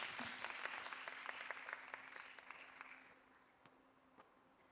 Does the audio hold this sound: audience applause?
yes